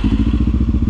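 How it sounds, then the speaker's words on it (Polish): A CB motorcycle engine runs with its exhaust putting out a steady, rapid, rhythmic low-pitched throb of even pulses, close by and loud, with no talk over it. "Ale ten wydech fajnie gada, wiesz?"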